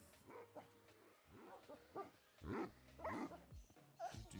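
A wolf summoned in a video game gives a run of short yips, whines and barks, close and fairly clear, with brief gaps between calls.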